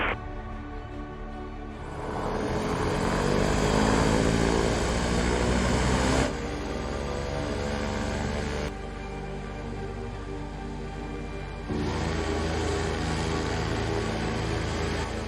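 Rolls-Royce Spirit of Innovation all-electric aircraft running up its propeller, a steady tonal whine with layered harmonics and broadband whoosh that rises, then steps between power levels in distinct stages, close and continuous.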